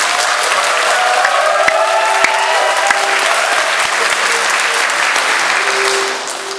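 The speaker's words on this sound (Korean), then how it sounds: "여러분들이 박수 한번 해주세요" A congregation applauds at a church drama team event, loud, full clapping that fills the room steadily and then fades slightly at the end.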